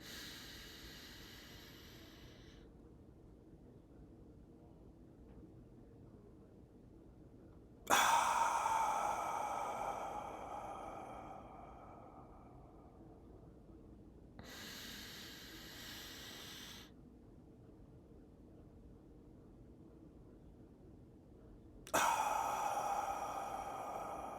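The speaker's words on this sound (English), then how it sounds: "So we're going to drop right into this breathwork exercise. A couple deep breaths." Deep breaths taken during a breathwork exercise: three long, airy exhales about seven seconds apart, each fading gradually. They are close and fairly soft, with quiet stillness between them and no talking.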